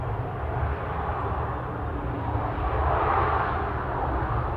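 A Ryanair airliner arriving from Lisbon at Manchester Airport gives off a faint, steady jet rumble, distant and unbroken, with no voices.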